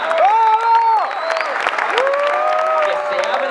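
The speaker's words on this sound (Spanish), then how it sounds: "Un aplauso para Fichi, Rippy, Ani y todas las consolas" Studio audience applause greets a Spanish-language show, with steady clapping throughout and raised voices calling out over it.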